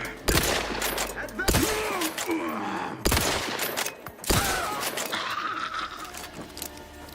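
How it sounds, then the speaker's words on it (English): Repeating rifle fired in The Outer Worlds 2, a few loud sharp shots in quick bursts over busy game noise, with some speech mixed in. "Little repeating rifle there."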